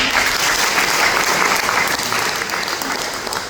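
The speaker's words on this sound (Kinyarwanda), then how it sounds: "Reka mufashe tubakomera amashyi." An audience at a church gathering claps together in dense, sustained applause, loud and even throughout with no break.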